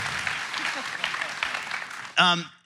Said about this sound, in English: Let's all give a Believe-sized cheer to these people.